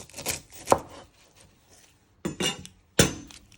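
A kitchen knife chops the ends off an onion on a cutting board: a few sharp, close knocks in two separated clusters with quiet pauses between.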